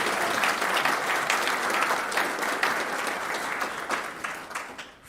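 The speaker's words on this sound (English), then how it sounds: "We can always clap for Helene" A fellowship congregation at a Sunday service bursts into sustained, dense applause that stays loud for several seconds and then starts to taper off near the end.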